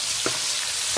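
Shallots and spices frying in a pan for spiced soy-sauce chicken, a soft steady sizzle with two brief scraping stir strokes of a utensil, close and without talk.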